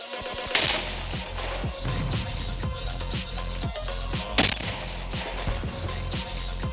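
Mortar firing at a training range: repeated sharp blasts with heavy low thumps, two especially loud reports standing out amid steady booming and clattering activity, loud and close.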